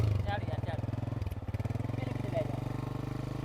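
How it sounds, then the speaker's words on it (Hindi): A motorcycle carrying riders through a village to fetch fodder, its engine putting out a steady pulsing idle-like thrum close by, with a voice speaking briefly over it. "मोटरसाइकिल पे हम लोग जा रहे हैं चारा लेने के लिए"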